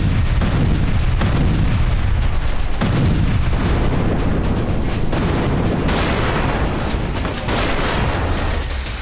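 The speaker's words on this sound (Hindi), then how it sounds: "फैब बमों से विस्फोट के बाद यूक्रेनी ठिकाने कुछ इस तरह से चल रहे हैं।" FAB-300 bombs exploding on Ukrainian positions in Kursk, a dense, continuous barrage of loud booms and blasts rolling over one another with no pause and no voices.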